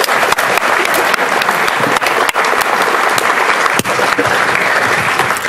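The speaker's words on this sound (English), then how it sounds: "I'd like to give a big round of applause to our current sponsors" A conference audience at evening lightning talks gives sponsors loud, sustained applause, dense clapping from a crowd continuing without letup across the whole stretch.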